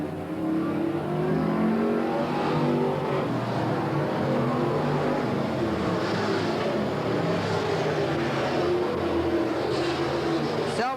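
Race cars roar around the track at Willamette Speedway in 1989, a continuous loud engine drone with engines rising and falling as they pass, and no speech above it.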